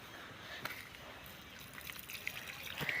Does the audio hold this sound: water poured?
yes